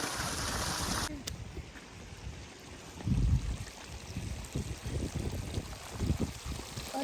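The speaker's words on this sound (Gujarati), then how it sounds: "આ પાણીનો અવાજ આવે છે અને બહુ મજા આવે." Water streams and trickles steadily through a London park, a soft continuous flow with a few louder gurgling swells, heard alone at moderate distance.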